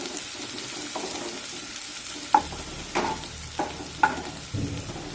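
Chopped onion sautéing in a pan for a dry potato dish, with a soft steady sizzle beneath several sharp spoon-against-pan scrapes and taps spaced about a second apart, close by and fairly quiet.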